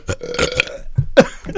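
A run of loud, close burps, one after another, with no talking.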